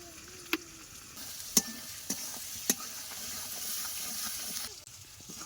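Spice paste with salt and turmeric sautéed and stirred in a pan for a country chicken curry, with a steady soft sizzle and a few sharp clinks of the spoon against the pan.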